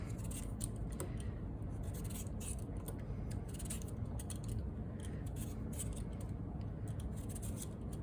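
Peeler scraping the skin off a small rutabaga, continuous rapid scratchy strokes close up and quiet, repeating steadily without talk.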